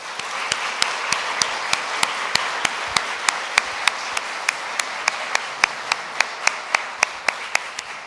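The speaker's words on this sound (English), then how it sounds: "maybe we can get another round of applause for all of the beautiful music." A crowd applauds in a dense, sustained patter, with sharp individual claps standing out in a steady rhythm throughout.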